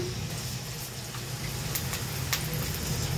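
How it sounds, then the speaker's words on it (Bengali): Two cups of onions frying in hot oil for a beef bhuna curry, a steady soft crackling sizzle with faint pops continuing throughout, close and moderately loud with no talk. "তেলটা গরম হয়ে গেছে। এখন আমি পেঁয়াজ দিয়ে দিব।"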